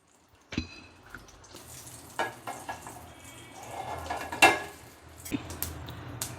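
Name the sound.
mustard seeds and urad dal frying in hot oil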